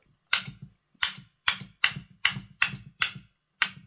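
Eight sharp metallic taps of a hammer on a steering wheel motor rod to free its circuit board, evenly spaced about half a second apart, each ringing briefly before silence.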